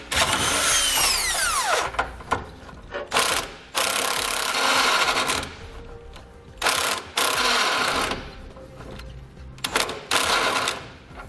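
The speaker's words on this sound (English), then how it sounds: "Now for the nuts on the side here, I'm going to be using a 19mm socket to tighten it up." A power tool with a 19mm socket runs in repeated bursts, tightening the side nuts of a Curt front-mount trailer hitch receiver on a 2017 Chevrolet Silverado. The close, whirring and rattling bursts are separated by short pauses.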